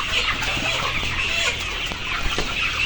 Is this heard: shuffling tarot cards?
no